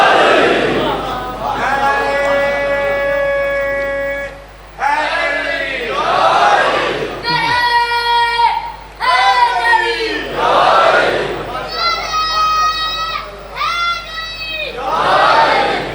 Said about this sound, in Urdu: آخر تک اس نعرے میں شریک ہو جائیں دوست